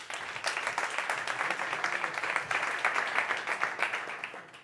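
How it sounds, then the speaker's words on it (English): A conference audience at a startup competition applauds, a steady, dense round of clapping held at even strength before tapering off at the end. "So please, Antonio from Aervio, big applause."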